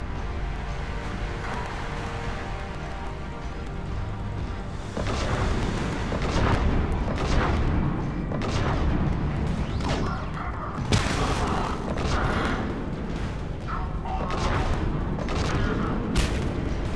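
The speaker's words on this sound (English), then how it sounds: "Wow, that shoots a missile." A missile launched from an Atlas mech in the Mass Effect 3 video game, booming and rumbling amid a dense run of heavy blasts and gunfire that swells louder midway, with several sharp impacts near the end.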